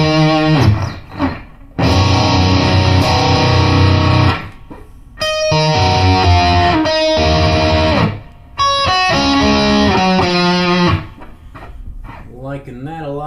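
An electric guitar plays through a Boss Katana amp with spring reverb: loud, sustained chords and notes ring out in bursts separated by short gaps, with a reverberant tail.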